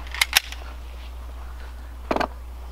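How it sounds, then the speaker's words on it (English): A .44 Magnum Desert Eagle firing, sharp cracks heard from a distance: two quick reports at the start and another burst of sharp snaps about two seconds later over a low steady hum. "shoot it with the 44 Magnum"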